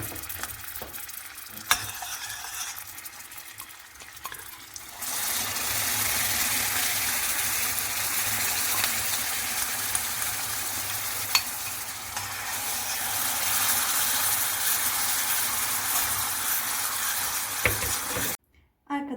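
Cream poured into a pot for a Turkish trileçe milk sauce and stirred as the heat is lowered, giving a steady close scraping and bubbling wash that swells after a few seconds and runs on evenly before cutting off.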